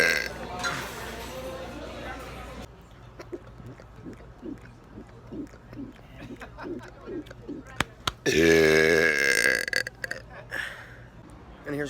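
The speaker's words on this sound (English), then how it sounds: "I'm going to be doing some really loud burps." Loud burps from a man at a seafood restaurant, a series of short guttural belches in a steady rhythm, with a long, louder burst near the end, close and prominent.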